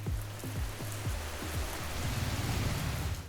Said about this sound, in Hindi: लेकिन बेंगलोर की बारिश